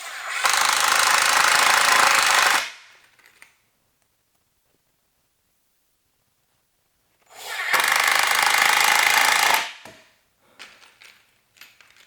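A power drill pre-drills holes in old cabinets being built into a rolling garage workbench, running in two loud bursts of about two and a half seconds each, separated by a long quiet gap.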